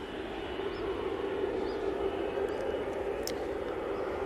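An EasyJet airliner at Manchester Airport gives a faint, distant steady engine drone with a low hum throughout, quiet and unchanging over the short stretch.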